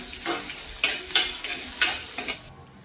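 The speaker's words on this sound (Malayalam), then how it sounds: "ഇനി നമുക്ക് അതിനകത്തേക്ക് ചെറുതായിട്ട് കട്ട് ചെയ്ത് വെച്ചേക്കുന്ന കൊച്ചുള്ളിയും പച്ചമുളകും കൂടെ ചേർത്ത് കൊടുക്കണം" Chopped shallots and green chillies sauté in hot oil for a fish curry, a close sizzle broken by several sharp scraping strokes of a spatula at an uneven rhythm before it fades out.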